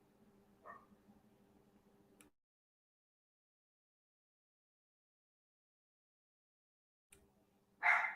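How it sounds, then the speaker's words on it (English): A single sharp dog bark rings out fairly close after a long silence, preceded by a faint yip and low background hum. "my dog is barking and barking in the background"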